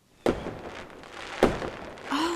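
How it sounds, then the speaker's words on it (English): Two sharp firework bangs burst about a second apart, each with a short rumbling tail, followed by a brief tonal whine. "Do you hear those fireworks?"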